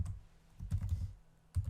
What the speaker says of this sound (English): I don't know why I'm typing everything in all caps these days.